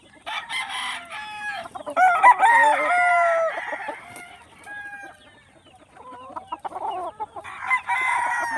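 Young roosters, stags about five months old, crow repeatedly at close range. Their strained crows mix with clucking from other fowl, with short pauses between calls.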